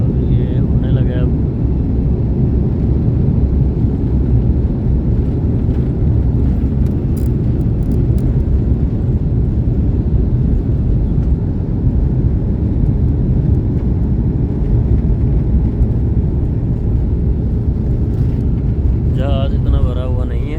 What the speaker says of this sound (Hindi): अभी ये रनवे पे है और ये उड़ने लगा है अब।